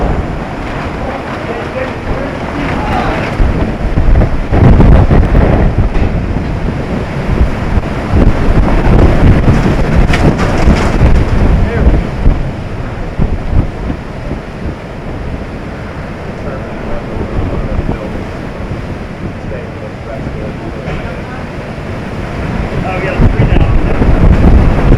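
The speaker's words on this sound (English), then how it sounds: "the outer edge of the northeast eyewall began to come ashore" Hurricane Ian's eyewall winds roaring ashore with surf, heavy buffeting wind pounding a microphone in loud continuous gusts and rumbling bursts throughout.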